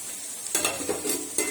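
Potatoes with spring onion greens frying in a pan, tempered with nigella seeds and dried red chilli: a soft sizzle that grows into several crackling bursts, up close, with no speech.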